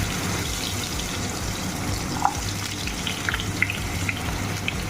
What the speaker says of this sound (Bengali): এটাকে ভালো করে ফ্রাই করে নিতে হবে।